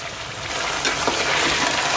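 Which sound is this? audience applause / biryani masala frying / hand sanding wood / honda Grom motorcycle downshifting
biryani masala frying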